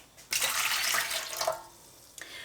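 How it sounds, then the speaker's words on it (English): Cold water gushes from a kitchen tap in one close, steady burst of about two seconds, then cuts off with a few brief drips and splashes. There is no talk. "And then I usually go and get some cold water from the tap."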